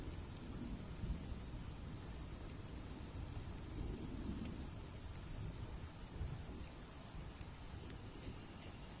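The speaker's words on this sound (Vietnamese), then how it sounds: "Nãy giờ sấm sét nó đánh rầm luôn các bạn" Steady heavy rain hisses throughout, with a low rumble of distant thunder rolling underneath; no voices.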